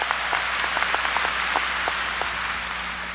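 A church congregation at a 1992 Sunday worship service applauds, scattered sharp claps standing out over a steady wash of clapping, fairly close and without talk.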